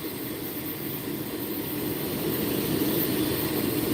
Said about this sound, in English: See if this jet is going to do it now.